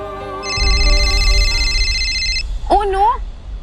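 A mobile phone ringtone plays loudly for about two seconds, a bright repeating electronic melody over background music, followed by a brief voice.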